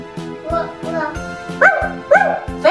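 A dog barks several times in a quick irregular series, close and fairly loud, though it may be a person imitating barking.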